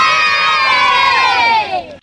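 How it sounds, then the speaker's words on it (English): A group of kids in a 1987 film cheer together in one bright, loud burst of overlapping high voices lasting about two seconds, then cutting off abruptly. "A group of kids kind of look nervously at the lion until Strebeck tells them it'll grow back, and they group cheer"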